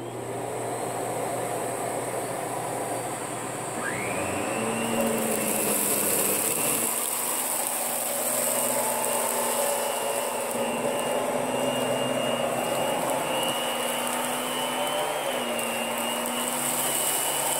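Kenmore and Electrolux vacuum cleaners start up one after another, the second motor rising gradually in pitch to a steady high whine, layered over a continuous running drone, close and loud with no talking.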